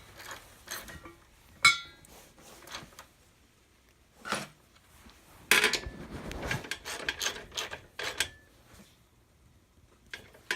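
Bolts being tightened on a KE100 motorcycle, with scattered metallic clicks, rasping ratchet turns and scraping in close, irregular bursts separated by quiet pauses.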